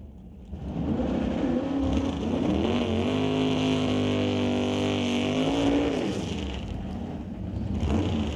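Drag race cars roar through a qualifying session at an NHRA Northwest National Open Series event, a loud sustained engine drone that builds and holds for several seconds before easing off slightly.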